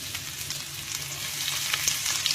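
Onions and curry leaves frying in a pan, a dense, even sizzle close by with a few brighter pops and spits, steady throughout and free of speech.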